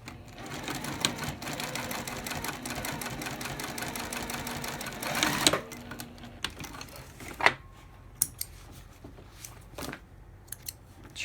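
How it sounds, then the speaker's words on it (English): A sewing machine top stitches along the fold of a fabric wallet panel, running in a fast, even clatter for about five seconds, then stopping, followed by scattered handling clicks and small knocks, close and moderate. "I'm going to finger press and top stitch just along this fold here."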